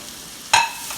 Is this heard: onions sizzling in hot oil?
yes